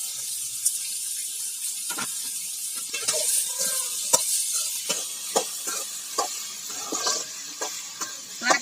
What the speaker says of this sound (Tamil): இப்போ சொரக்காய் கட் பண்ணி வச்சுருக்கிறத போடுறேன்ப்பா